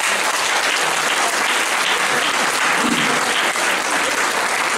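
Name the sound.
applause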